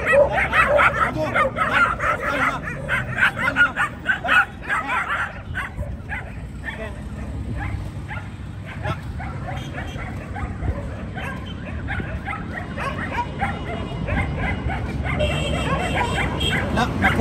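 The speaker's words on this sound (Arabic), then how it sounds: "تعال بص عدد الكلاب" Several dogs bark and yip on a street, with repeated overlapping barks and some whimpering near and mid-distance, alongside steady street background and occasional voices.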